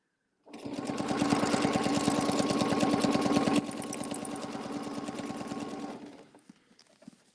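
A sewing machine stitches a quilt along a template, a fast, even mechanical chatter running for about five seconds, easing slightly midway, then stopping, with no talking.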